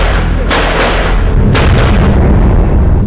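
Gunfire during the 26/11 Mumbai attacks comes as loud, booming bursts that continue steadily, with two sharper cracks standing out over a dense, continuous roar.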